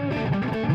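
Electric guitar with heavy distortion, played in E, giving a brief, sustained, buzzy chord tone that stays steady and fairly loud throughout.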